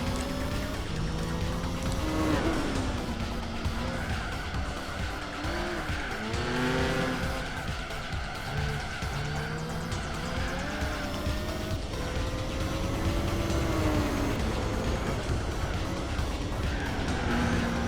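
A Nissan Skyline R32 tuned to about 800 horsepower on dirt tires races an asphalt section in Gran Turismo 4, with a continuous loud engine roar, rising and falling revs, and repeated tire squeals as it slides through corners.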